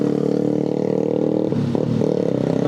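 A motorcycle exhaust in busy Bandung street traffic makes a loud, steady droning roar close by, with a brief dip and shift in engine note partway through before the drone resumes.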